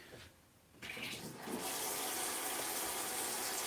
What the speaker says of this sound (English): get my hot water ready there